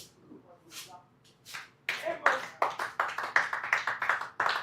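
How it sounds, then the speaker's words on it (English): Scattered claps build into steady applause from a small crowd at a cricket match as a batsman walks off, somewhat distant, with a few voices faintly mixed in. "A big clap for Muzzy Sheikh as he walks back into the dressing room."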